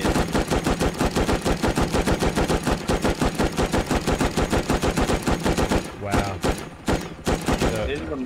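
Rapid, continuous automatic cannon fire from an attack helicopter's gun in a video game, a dense rattling burst lasting several seconds before breaking into a few scattered thumps at the end.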